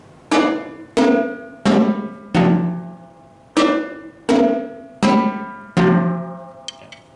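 Marching quad drums struck in a steady rhythm, eight separate loud, ringing tom hits with short decays, played close and alone with no talk.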